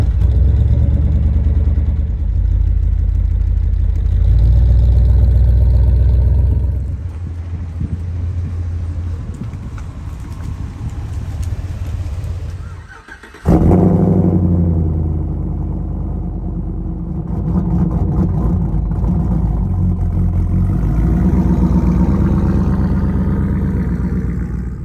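An OBS Ford truck engine cold-starting and settling into a loud, deep idle close by, with a brief cutoff before it catches again and rumbles steadily.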